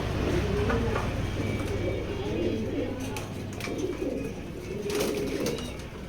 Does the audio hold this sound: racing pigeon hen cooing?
yes